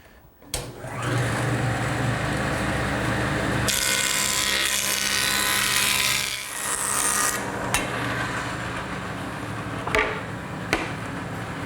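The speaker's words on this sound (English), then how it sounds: "I'm going to straighten the edges on my joiner" A woodworking jointer straightens the edges of wooden boards, a loud, dense machine roar running steadily for most of the stretch, with cutting surges and a few sharp knocks near the end.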